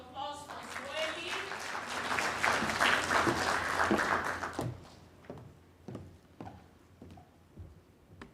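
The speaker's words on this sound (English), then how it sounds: "Another big round of applause for Zweli." Applause and clapping from a forum audience at a SADC business CEOs' gathering, sustained and dense for about four seconds, then fading into scattered individual claps with a few murmured voices.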